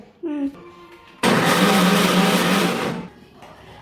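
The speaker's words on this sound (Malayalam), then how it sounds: "ഞാൻ മുളക് പൊടി, മഞ്ഞൾപ്പൊടി, ജീരകം, ചെറിയുള്ളി, ഇഞ്ചി, വെളുത്തുള്ളി ഇതെല്ലാം ഇട്ടിട്ടാണ് അരച്ചെടുക്കുന്നത്" A mixer grinder blends chilli powder, turmeric, cumin, shallots, ginger and garlic, kicking in with a loud, steady whirring roar for nearly two seconds before cutting off, after a few brief voice-like sounds at the start.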